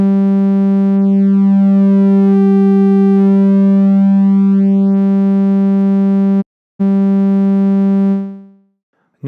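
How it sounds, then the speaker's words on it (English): Mela synth VA oscillator playing a rectified sine waveform with its shape being morphed, a loud sustained buzzy tone on one pitch whose harmonics shift and sweep, broken by a brief dropout before it fades near the end. "The VA oscillator used to have half-wave rectified sine and full-wave rectified sine. Now we just have rectified sine."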